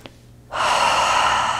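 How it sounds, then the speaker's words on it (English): One long, steady breath in a quiet yoga session, taken while sitting back on the heels with eyes closed. After a moment of near silence it rushes up close and full, then holds as an even airy flow. "take some cleansing breaths or cleansing sighs in through the nose"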